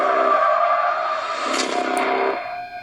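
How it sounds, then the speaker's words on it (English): A bus skids with a long loud screech of tires, sustained for a couple of seconds, then tapers off with a sharp hit near the end. "The bus crashed."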